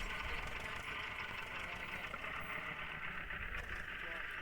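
A tractor engine idles in an Indian tractor simulator video game, a steady mid-pitched drone with a low rumble that runs evenly throughout, with faint background voice underneath.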